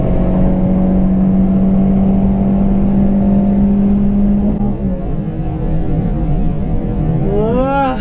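A Renault Clio 1.6 16V engine revs hard under acceleration on a mountain road, a steady loud drone that rises in pitch before easing off, then climbing again near the end.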